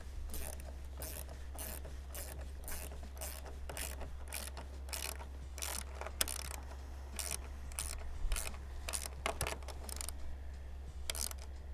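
Bolts on a polycarbonate greenhouse roof are tightened against timber, giving a long run of quick ratcheting clicks in bursts, close and fairly loud over a steady low hum.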